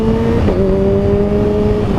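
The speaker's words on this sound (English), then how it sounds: "It revs so fast" A 2016 Kawasaki Ninja H2 supercharged motorcycle engine holds a loud, steady high-pitched tone up close, with a brief dip midway as the revs shift, and no talking over it.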